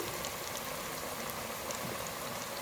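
French fries deep frying in hot oil, a dense steady crackling sizzle that holds evenly throughout with no talking.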